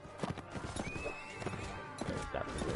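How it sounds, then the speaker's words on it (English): Horse neighing and clopping hooves in the Mount and Blade video game, a loud whinny over steady hoofbeats, with battle noise and voices in the background. "Just brought down a horse."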